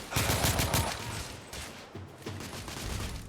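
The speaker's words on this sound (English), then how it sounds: "I'm taking suppressing fire!" Dense gunfire from a firefight in the video game The Order: 1886, loud, rapid volleys of shots rattling continuously with a brief lull before firing picks up again, no voices.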